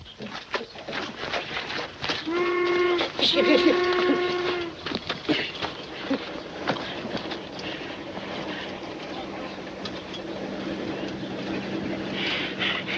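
A steam-hauled mail train rumbles steadily, with a long multi-tone whistle blowing near the start before the chugging and rolling continue.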